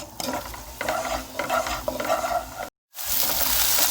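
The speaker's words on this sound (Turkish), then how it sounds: "önce bir çorba kaşığı zeytinyağında soğanları öldürüyoruz." Onions sizzle and are stirred in a tablespoon of olive oil in a pan as the start of a lentil, bulgur and minced meat soup, a steady close frying hiss with a brief break near the end.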